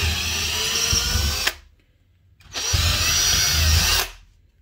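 Power drill widening a hole through cork roadbed on an HO scale model railroad layout, stepping up toward a quarter-inch bit; two close, steady whirring bursts of about one and a half seconds each, separated by a short pause.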